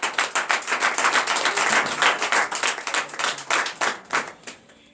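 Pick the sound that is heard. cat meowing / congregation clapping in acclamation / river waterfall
congregation clapping in acclamation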